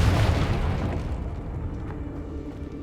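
A Confringo spell going off in a video game: a loud, booming blast at the start that decays into a long rumbling tail, with no voices over it.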